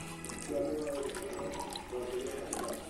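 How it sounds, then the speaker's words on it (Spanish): Warm water pours from a tap into a cup in a home lab making bioplastic from cassava starch, a short close trickle with varying splashy tones and no talking. "Para esta tercera taza le agregamos lo que es la mitad de una taza, pero esta ya es agua tibia"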